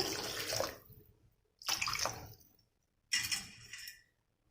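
Water is poured into a pan of country chicken curry in three separate splashing pours, each a loud gush that trails off, with short pauses between them.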